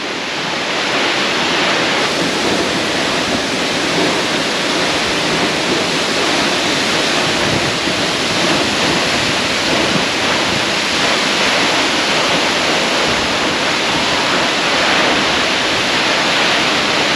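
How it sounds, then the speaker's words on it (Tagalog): Asen Falls, the tallest waterfall in Ilocos Sur, roars as a loud, constant broadband rush of falling water, unbroken and close for the full stretch. "Ito ang pinakamataas na falls dito sa Ilocos Sur."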